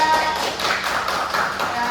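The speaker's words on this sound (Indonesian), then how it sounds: "Boleh tepuk tangan untuk kelompok 3" Applause for group 3 in a classroom roleplay session, a dense, steady patter of many hands clapping together at close range, continuing evenly throughout.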